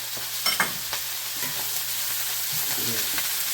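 Lamb chops with onions and bacon sizzle loudly in a hot pan, a constant frying hiss broken by a few stirring scrapes and soft knocks, close up and without speech.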